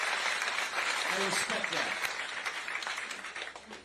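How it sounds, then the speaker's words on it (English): An audience claps for a 10-year-old girl at a political town hall event, with broadband applause running throughout and fading toward the end, while someone speaks briefly over it. "Let's give Grace a round of applause."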